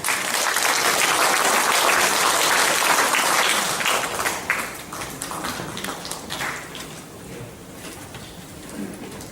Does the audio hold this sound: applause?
yes